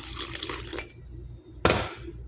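Water pours in a short close stream, stops briefly, then a second louder splash of pouring follows.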